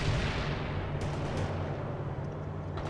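Artillery and gunfire in the strategy game World in Conflict, a dense rumbling barrage of booms with scattered sharp cracks, loud and continuous without pause.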